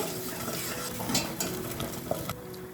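A spoon stirs onion masala in a pan over a medium flame while preparing an avarekalu dish, scraping steadily under a constant soft sizzle, close and continuous.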